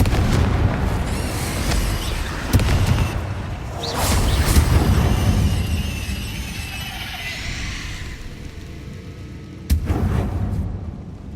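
Confringo blasting-spell explosions in the video game Hogwarts Legacy, several loud booming bursts with rumbling tails and a final sharp blast near the end, dense game effects throughout.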